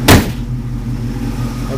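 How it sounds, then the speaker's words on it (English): The hood of a 1968 Mustang GT Fastback with a 390 V8 slams shut in one loud, close thud, followed by the steady low rumble of the idling engine. "Just going to shut the hood now."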